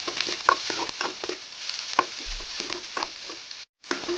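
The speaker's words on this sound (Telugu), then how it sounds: "ఆయిల్ వేడైపోయాక మనం కట్ చేసి ఉంచుకున్న ఆనియన్స్ పచ్చిమిరపకాయలు దీంట్లో యాడ్ చేసుకోండి" Chopped onions and green chillies frying in hot oil for pesara pappu vankai, a bright hiss with irregular stirring scrapes and taps, briefly cutting out near the end.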